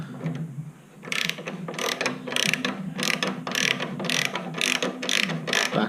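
Ratchet with a 10mm socket backing off a bolt on a 2003–2004 Kawasaki ZX6-R, a close, steady run of quick clicking strokes that starts after a brief pause and continues without talk.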